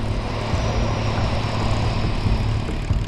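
Steady, loud drone of seaplane propeller engines operating on a busy waterway, a continuous low engine hum with no pauses, heard alone without voices.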